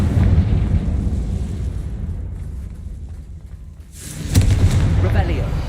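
Booming spell blasts from the video game Hogwarts Legacy as the fire spell Confringo is cast: a heavy rumbling burst at the start fades out, then a second sharp explosion hits near the end.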